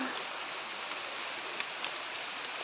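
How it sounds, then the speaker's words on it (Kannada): Rain falls steadily outdoors as a constant, even hiss with a few faint drop ticks, fairly soft and with no one talking. "ಮಳೆ ಬರ್ತಾ ಉಂಟು ಮಳೆ ಬರ್ತಾ ಉಂಟು"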